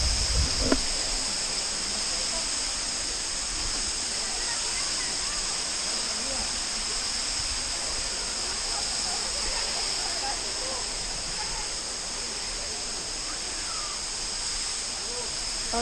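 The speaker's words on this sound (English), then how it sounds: "Bye bye Waterfalls." Montezuma waterfalls in Costa Rica pour with a steady, unbroken rush, joined by a constant high insect drone, with a single brief knock near the start.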